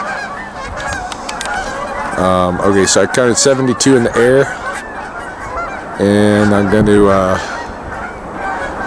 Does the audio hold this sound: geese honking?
yes